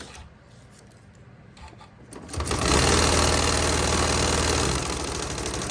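A sewing machine stitches a zipper pouch, starting with a few slow, quiet stitches and then running up into a loud, fast, steady whir that holds for several seconds before easing off slightly.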